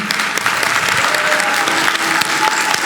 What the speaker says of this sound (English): And can we get a round of applause for Mr.